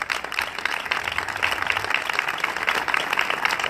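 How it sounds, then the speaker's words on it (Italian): Applause breaks out for Mario Tomaino at an outdoor political rally in a small Italian village, a dense, continuous clatter of many hands held at a steady level from start to finish. "Vi ringrazio e vi invito a fare un applauso a Mario Tomaino."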